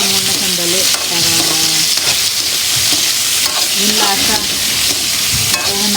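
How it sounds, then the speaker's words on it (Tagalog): Shrimp stir-fried in hot cooking oil, a loud, close sizzle punctuated by repeated scraping and tossing strokes of a utensil in the pan. "Mainit na yung mantika. Stir fry natin."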